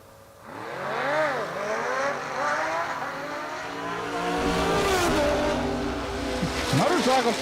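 Drag race run at Sonoma with a car and a motorcycle launching side by side, loud engines revving and roaring down the track under a commentator's steady talk, rising to a louder, denser roar midway.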